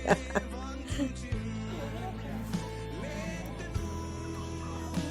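A big chicken clucks in a few short, scattered bursts near the listener, while family members talk nearby.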